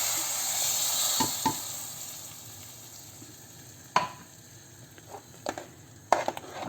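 Chili powder is stirred into hot frying oil as a tempering for a raw banana and lentil curry, giving a soft sizzle that fades, punctuated by several sharp spoon clinks and scrapes against the pan.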